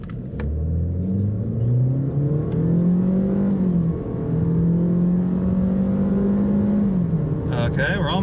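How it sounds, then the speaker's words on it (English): A 2019 Ford Fusion SE with a 1.6 EcoBoost engine accelerates hard from 0 to 60 mph, its engine note climbing steadily, dropping at a gear change, then rising again, heard from inside the cabin. "I'm just gonna hit the gas and see what it does."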